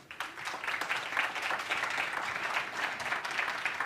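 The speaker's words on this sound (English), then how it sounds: "A big applause." A crowd at the Huawei Digital Talent Summit claps steadily for a few seconds, a dense, even patter of many hands with no voices.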